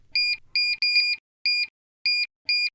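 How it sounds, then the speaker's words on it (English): A 20-quart stand mixer gives six short, crisp electronic beeps at uneven intervals as its buttons are pressed, each a bright two-tone chirp with silence between. "the machine will beep when any button is pressed"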